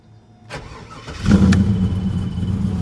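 A car fitted with a Holley Terminator X Max fuel injection system cranks briefly and fires up, then settles into a loud, steady idle close by with no talking.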